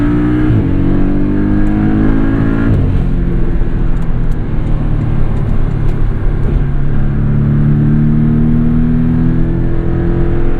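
A 2017 Porsche 718 Boxster S with PDK gearbox and MTM tuning accelerates hard to overtake in commuter traffic. A loud, continuous engine drone rises steadily in pitch, with gear changes, heard from inside the cabin with no talking.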